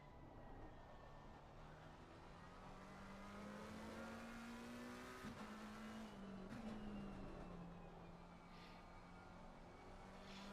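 A McLaren race car engine in a racing game at the Hungaroring drones steadily at moderate distance, its pitch climbing gradually and then easing off, with a couple of sharp clicks and no talk.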